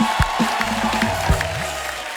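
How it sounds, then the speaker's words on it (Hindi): Loud applause and cheering from a television studio audience, with scattered whoops rising over sustained clapping throughout. "जोरदार तालियां हो मैम के लिए"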